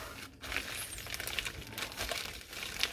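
A plastic freezer bag packed with cut chicken wings is pressed shut, giving close, quiet crinkling and rustling of the plastic in short uneven bursts, no talking.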